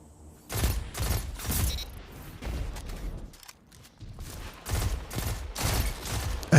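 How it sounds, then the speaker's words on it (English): Pulse rifle gunfire in a multiplayer shooter video game: several loud bursts of rapid shots in quick succession with brief gaps between them, close and punchy. "Spree with the pulse rifle."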